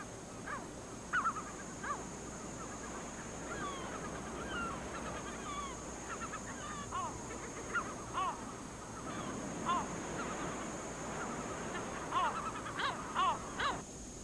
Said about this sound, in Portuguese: a tranquilidade da ilha é quebrada pelo constante barulho das gaivotas disputando as suas ninhadas na densa vegetação